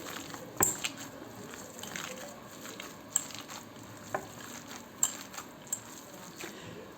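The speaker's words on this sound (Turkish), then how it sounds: "Köftemizi güzelce iç harcını kıymasını yoğuralım ki lezzetli olsun." Minced meat mixture for beyti kebab being kneaded by hand: quiet, close squelching and wet pressing with a few sharper slaps scattered irregularly, no talking.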